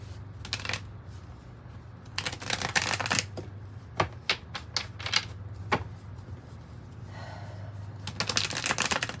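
Tarot cards are shuffled and drawn close up. Quick riffling bursts and sharp card snaps come in uneven clusters, with quieter sliding and handling between them and no talking.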